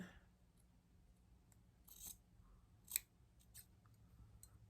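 Scissors snip into quilt fabric for a wall quilt, a few quiet, crisp cuts spaced irregularly, with one sharper snip in the middle, close up in a quiet room.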